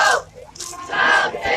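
Crowd noise at a Beto O'Rourke political rally in Clint, Texas, in June 2019, with a raised chant-like swell of voices at the start and again after a brief lull, fairly close and loud.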